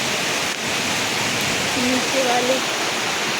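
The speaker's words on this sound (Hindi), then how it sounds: "देख सकते हैं आप नीचे नाले में पानी जाता हुआ।" Water rushing along a village stream channel below in hilly Himachal countryside, a steady broadband hiss running through the whole stretch, with a voice speaking briefly over it.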